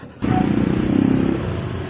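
A motorized tricycle engine starts abruptly and runs loudly nearby with a steady, chugging idle pulse that continues throughout.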